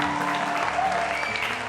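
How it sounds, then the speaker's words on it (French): Brief burst of applause on a French show, a steady dense clatter of clapping with faint voices mixed in. "on ne peut que t'applaudir encore parce que c'est incroyable"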